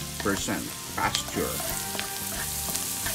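Garlic and onions sizzle and fry in a pan, a steady close crackle with occasional stirring scrapes and clatter throughout.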